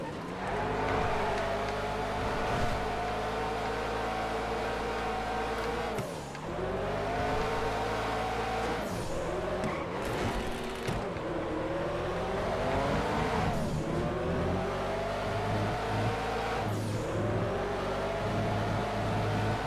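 An old-school Le Mans race car in a GTA FiveM race revs hard and steadily, its loud engine note climbing through the gears with repeated dips at each shift, close and unbroken for the whole stretch.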